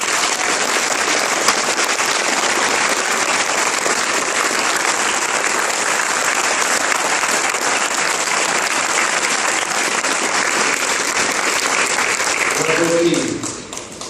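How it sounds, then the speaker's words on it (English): Loud, sustained audience applause for military men and women standing at a Choctaw meeting, a thick wash of clapping that fills the room and then tapers off near the end. "let's give them a big round of applause for what they do for us"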